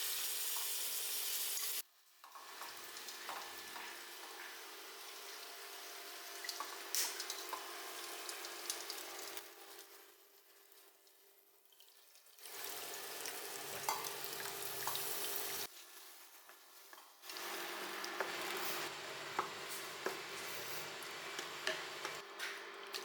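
Chopped garlic sizzling in a pan for a Kerala-style sardine curry, a steady hiss that drops out and returns in stretches, with faint stirring and water noises in between.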